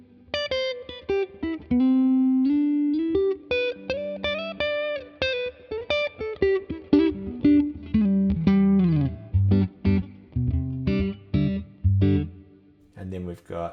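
An electric guitar with a jazzy amp tone, played through a Neural DSP Tone King amp model, plays a clean, warm melodic line of single notes and chords, close and alone, with short pauses between phrases.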